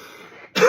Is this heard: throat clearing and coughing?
yes